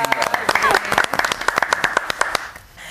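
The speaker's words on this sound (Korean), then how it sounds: "박수 한번 쳐드릴까요?" A studio audience at a doctors' talk show claps in welcome, crisp separate claps in a quick patter with a voice talking over them before the clapping fades out.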